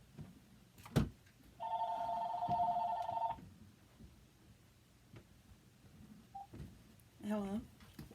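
A telephone rings indoors, one steady electronic ring lasting about a second and a half, with a thump before it and scattered clatter around it. A shorter warbling tone follows near the end.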